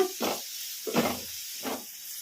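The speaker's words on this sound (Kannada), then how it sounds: "ಮುಳ್ಳಂಗಿನ ಒಂದು 2 ನಿಮಿಷ ಈ ಥರ ಕಲಿಸ್ಕೊಂತ ಫ್ರೈ ಮಾಡ್ಕೊಂಬಿಡೋಣ." Grated radish frying in a pan gives three short bursts of sizzling as it is stirred, each close and crisp with quiet gaps between.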